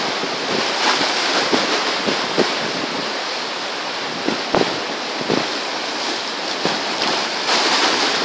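Strong wind roars steadily across the microphone, a dense continuous rush with occasional gusty thumps, no voices.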